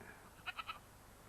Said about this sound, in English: Our goat, Josie.